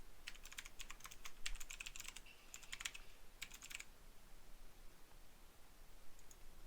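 Quiet bursts of keyboard typing while entering a username and email address into an online license renewal form, clusters of rapid clicks separated by short pauses, then silence.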